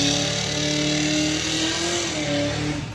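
Twin-turbo Zephyr race car accelerating hard down a drag strip, a loud continuous engine roar with rising harmonic tones filling the whole stretch, no voices.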